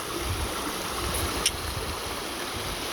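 A small mountain creek flows along a wilderness trail, giving a steady, soft rushing wash of water that continues evenly throughout with no voices.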